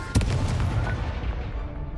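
An Incendio fire spell cast in Hogwarts Legacy lands as one loud, sharp burst, then a dense crackling, rumbling roar carries on steadily for about two seconds.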